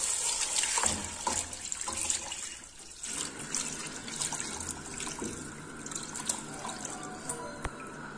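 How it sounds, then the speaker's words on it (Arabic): Shrimp-shell stock poured into a cooking pot for a fish soup, a steady splashing, trickling stream of liquid heard up close with small drips and clinks, no talking. "دابا غنزيدو عليها هذا الماء ديال القشور ديال الكروفيت."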